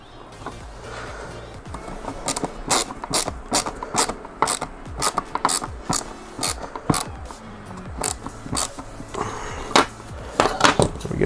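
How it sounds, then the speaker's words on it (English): Small standard fan screws being driven into a cooler mount while upgrading a NerdQaxe++ miner, giving a string of close, sharp metallic clicks and ratcheting scrapes in irregular bursts, with no talk. "we're just gonna put our 4 normal fan screws down in here and see if it'll mount clear in."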